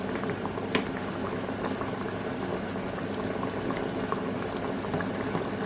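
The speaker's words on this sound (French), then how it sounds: "on va rajouter les poissons." Fish going into a bubbling seafood sauce for a seafood gratin, simmering in a pot. A steady, close, dense bubbling and gurgling runs throughout with no talk.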